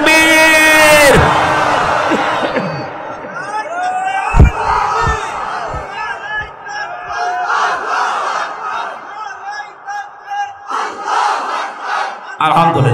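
A large political rally crowd bellows a takbir chant back in response, a loud massed roar of voices that rises, breaks off and then continues in ragged waves of shouting.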